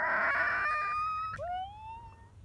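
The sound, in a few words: car tires screeching going around a corner too fast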